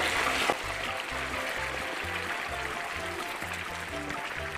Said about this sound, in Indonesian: Kalau mau digoreng nih tinggal dimasukin saja ke minyak panas nih seperti ini.